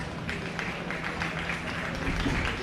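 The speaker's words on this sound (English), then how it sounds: "just clap a little bit" A group of people clapping lightly together, a soft, steady patter of many hands at moderate distance, continuous and fairly faint throughout.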